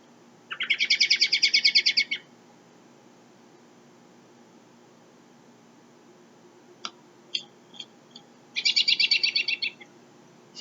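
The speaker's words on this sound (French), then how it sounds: "Écoute bien le merle." Near a maple sugar bush, an American robin gives two buzzy, rapidly pulsed trills about two seconds long, separated by a stretch of faint clicks and chips against a quiet background.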